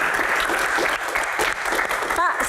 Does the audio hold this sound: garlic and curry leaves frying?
no